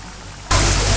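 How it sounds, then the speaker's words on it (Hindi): Bread vadas made from leftover bread deep-fry in hot oil in a kadhai over a medium-to-high gas flame, giving a steady, dense crackling hiss that jumps sharply louder halfway through and stays loud, close up and with no voices. "गैस की फ्लेम को हमें मीडियम टू हाई करते हुए बड़ों को फ्राई करना है।"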